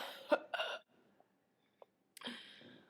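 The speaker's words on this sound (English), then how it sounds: "I can't seem to get rid of this cough" A child working in the mines coughs, a few harsh, close coughs in quick succession, then a short quiet pause and another cough burst.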